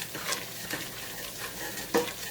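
Butter and flour roux cooking in a pan for cream soup, a soft steady sizzle with a few light scrapes of a utensil stirring, close and fairly quiet, with no talking.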